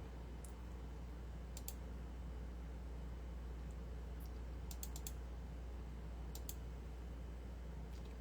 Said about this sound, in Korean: 타자 소리가 좋다고?